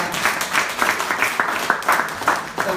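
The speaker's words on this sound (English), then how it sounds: "let's just give Dr. Adebayo another round of applause" Audience at a talk on bipolar disorder applauding Dr. Adebayo, steady moderate clapping with rhythmic pulses lasting the whole stretch.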